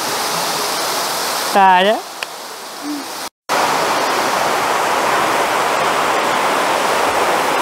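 Rushing waterfall inside a cave in the Caucasus mountains of Chechnya, a dense steady roar filling the space, briefly broken by a short voice and a whistle-like chirp before the loud torrent continues alone.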